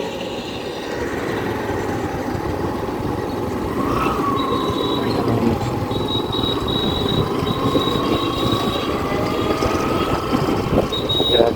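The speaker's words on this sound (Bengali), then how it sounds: "রেললাইনের গাড়ি" A train runs along a railway line beside a road, with a loud, steady rumble of wagons and wheels throughout and a thin, high wheel squeal rising over it partway through.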